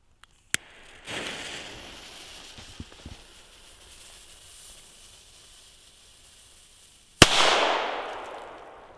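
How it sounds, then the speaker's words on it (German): Roter Korsar German firecrackers from FireEvent go off as two very loud, sharp bangs about six and a half seconds apart, with a faint fizzing fuse between them and a crackling, hissing tail after the second blast. "Boah, die sind ultra laut, Leute. Sehr heftig. Und das für einen deutschen Böller."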